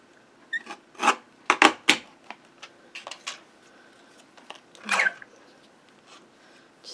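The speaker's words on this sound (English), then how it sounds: "Bring in my guillotine trimmer. And trim off that little bit of extra." A guillotine paper trimmer slicing excess off a card made from paper scraps, with a few scattered rasping swipes and clicks of the blade close by in a quiet room.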